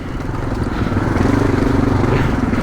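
A motorcycle on an adventure ride over dirt tracks, its engine droning steadily and close with a rhythmic pulsing throb, loud and continuous throughout.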